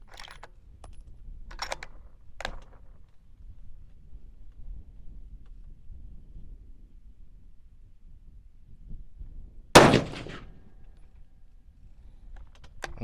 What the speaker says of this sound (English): go ahead and do another shot.